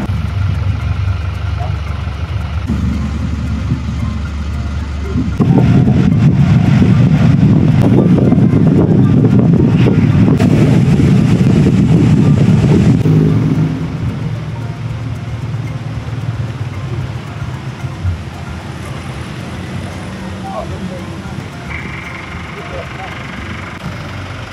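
A bus drives along a road on a journey through Timor-Leste, giving a steady low engine rumble with wind noise. The rumble swells louder for several seconds in the middle and then settles back to a constant drone.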